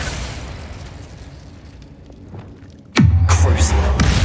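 Bombarda blasting spell explodes in Hogwarts Legacy: after a quieter stretch of magical rumble, a sudden loud boom bursts in and rolls on as a heavy, sustained low roar with crackling debris.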